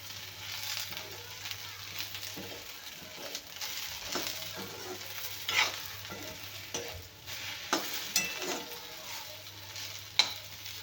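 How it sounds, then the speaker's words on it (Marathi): Eggplants roasting on a hot plate, with a soft continuous sizzle and occasional scraping or turning sounds, close but fairly quiet, with no voices. "बघा किती छान भाजत आहेत आपले वांगे"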